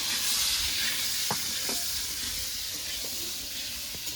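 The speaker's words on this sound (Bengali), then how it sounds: "এবার আলুটাকে নেড়ে চেড়ে একটু ভেজে নেব" Boiled potatoes frying in oil in a pan, a loud continuous sizzle and hiss with occasional soft knocks from stirring, close and steady.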